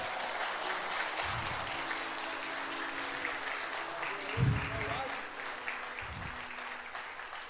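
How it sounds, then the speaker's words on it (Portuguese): A church conference congregation claps in a steady wash of applause, with low thumps and a faint voice underneath throughout. "Nem um aplausozinho assim para ele?"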